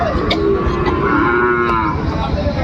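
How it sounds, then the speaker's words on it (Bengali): A Sahiwal bull calf moos at a cattle market in Dinajpur, a long, loud, drawn-out low call with a rising and falling pitch, heard alone over the hum of the busy market. "শাহিওয়ালের ষাঁড় বাচ্চা।"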